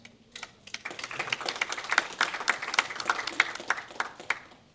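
An audience at a data conference applauding, a dense patter of many hands clapping that swells quickly, holds steady for several seconds, then begins to thin out.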